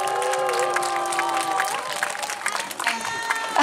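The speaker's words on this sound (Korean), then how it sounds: "열심히 노래 연습을 한 우리 꼬마 친구들한테 큰 박수 한번 부탁드리겠습니다" An outdoor crowd at a Daegu–Gyeongbuk anti-nuclear march and rally in Gyeongju claps and cheers for children who sang, the applause blending with sustained tones and voices, building in the latter half.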